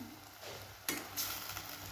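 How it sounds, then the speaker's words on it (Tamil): Chicken and onions sautéing in a pan for pepper chicken make a soft, steady sizzle. A spoon scrapes and stirs against the metal now and then, close but fairly quiet, with nobody talking. "வெங்காயம் வதங்கினோடனையும் கழுவி வச்சுருக்கிற சிக்கன் எடுத்து இதில் போடலாம். இதை போட்டு இதுலேயும் அதை வதக்கணும்."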